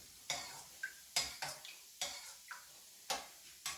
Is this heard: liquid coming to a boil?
yes